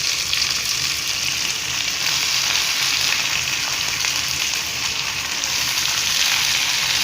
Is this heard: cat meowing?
no